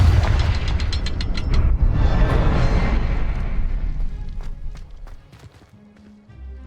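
A spell explosion in the Hogwarts Legacy video game: a loud, deep rumbling blast that fades over several seconds, with rapid clicking bursts at the start and quieter mechanical debris sounds toward the end.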